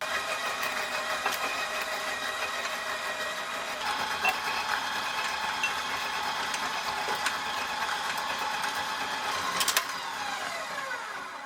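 A KitchenAid 5.5-quart bowl-lift stand mixer runs on low speed, a steady mid-pitched motor hum with a faint rhythmic whir, continuous and fairly quiet throughout.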